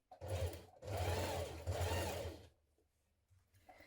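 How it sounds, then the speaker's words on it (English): Sewing machine running in two short close bursts while top stitching jacket pocket pieces, a whirring mechanical hum that stops abruptly and leaves near silence. "Top stitch down the top of all four pocket pieces."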